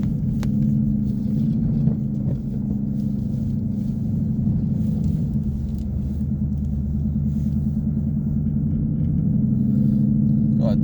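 A 2016 Ford Mustang on Bridgestone Blizzak WS80 winter tires plows through snow over 8 inches deep, a continuous low engine rumble with muffled crunching and scraping underneath, steady and close.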